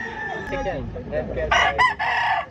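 A gamecock rooster crows loudly and close by with a harsh, broken call in the second half, after a voice and soft clucking at a fighting-cock breeder's yard in Lipa City.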